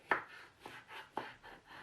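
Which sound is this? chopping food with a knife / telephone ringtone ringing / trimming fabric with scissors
chopping food with a knife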